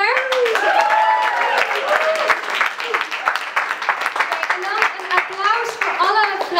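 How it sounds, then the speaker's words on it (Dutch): Audience applause at a community event in a theater space: loud, close clapping with whoops and cheering voices riding over it, continuous for the whole stretch. "Dus applaus voor Nowhere!"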